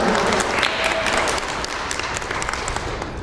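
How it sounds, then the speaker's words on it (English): Loud, sustained applause from a pageant audience for a princess contestant, dense clapping that eases slightly in the second half but continues throughout. "let's give her a round of applause again for the effort"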